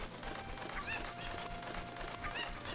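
Cuckoo chickens in The Legend of Zelda: Ocarina of Time give two short, bright clucking calls, spaced about a second and a half apart, over a steady background of village game ambience.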